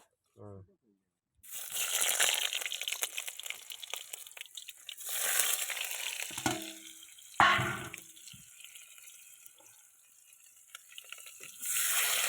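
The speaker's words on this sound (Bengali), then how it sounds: "একটু ভাজা ভাজা করবো" Shrimp and crab seasoned with salt and turmeric sizzle and crackle in a frying pan in long hissing bursts, with a brief voice near the start and quieter gaps between surges.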